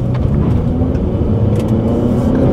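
A 2013 Hyundai Sonata Hybrid accelerates hard during a 0-60 mph run at high altitude, a steady low engine and road drone heard from inside the car, with no talking.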